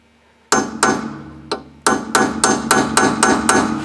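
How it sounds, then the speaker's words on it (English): Sharp metal hammer strikes on a nut to bend it back and lock it, during rear brake disc replacement on a Peugeot 307; roughly eight loud, close blows at an uneven then steady rhythm, with no talking. "now we need to bend the nut back"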